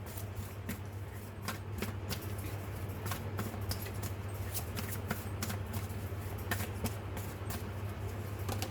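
A True Love oracle card deck shuffled by hand, with soft, quick riffling taps repeating steadily and close over a constant low hum.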